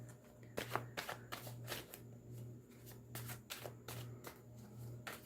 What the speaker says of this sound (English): just shuffling the cards, getting ready to do your reading